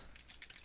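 Quick keystrokes on a computer keyboard, a short run of soft, faint clicks in rapid succession.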